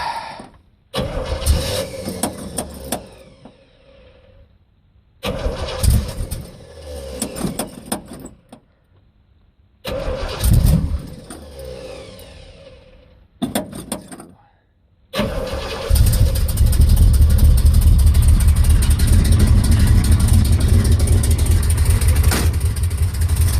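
A muscle car engine is cranked over and over in several long bursts with pauses between, catches and starts, then settles into a loud, steady idle that runs to the end.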